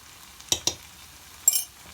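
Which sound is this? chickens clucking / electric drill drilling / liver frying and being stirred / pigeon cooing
liver frying and being stirred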